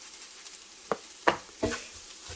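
Ground meat cooking in a pan with cumin and salt, a quiet background sizzle broken by three or four sharp scraping stirs of a utensil, close and intermittent.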